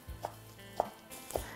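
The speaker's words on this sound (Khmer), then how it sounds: "នាងខ្ញុំចាប់ផ្ដើមហាន់ផ្សិតក្រៀមហាន់វាស្ដើងស្ដើងហើយចិញ្ច្រាំវាផ្សិតហ្នឹង" A knife chops dried mushrooms on a cutting board, three distinct evenly spaced thuds close up in a quiet kitchen.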